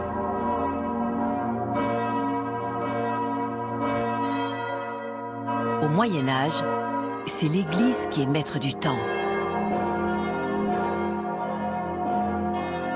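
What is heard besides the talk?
church bells swinging and ringing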